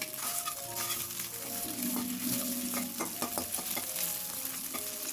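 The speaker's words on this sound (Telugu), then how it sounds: "ఇప్పుడు ఈ గుడ్లంతా బాగా ఇలా వేయించుకొని పెట్టుకున్న తర్వాత" Eggs frying in oil in a kadai for an egg pickle, a steady bright sizzle throughout with scattered scraping and stirring clinks from a spoon, close and continuous with no talking.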